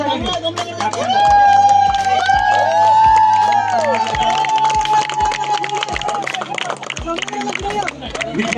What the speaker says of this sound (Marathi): विचार फोर्टी प्लस साठी जोरात टाळ्या वाजवायचे आहेत